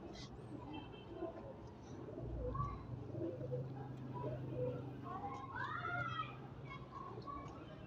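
A star pigeon hen gives soft coos and a few brief chirps, faint and low in a quiet loft, with other birds and faint voices in the background.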